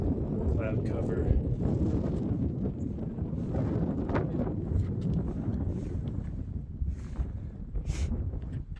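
Strong, cold wind buffets across the summit of Mount Moosilauke, roaring steadily into the microphone with gusty rumbling, while a person talks over it intermittently.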